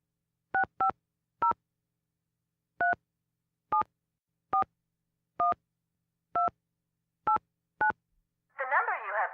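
A telephone keypad sends a number as touch tones: about ten short, clean beeps spaced unevenly, near and loud against silence, followed by a brief rough burst at the end.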